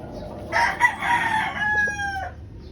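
A pure white Kelso gamecock broodstag crows once, loud and close, the call rising then holding a long drawn-out final note over a low rural background hum.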